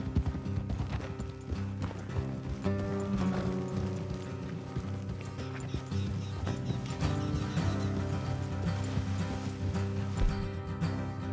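Horses' hooves clip-clopping along a road in the Red Dead Redemption 2 video game, a steady rhythmic trotting under a dense bed of ambient game music and mechanical creaks, continuous and fairly loud throughout.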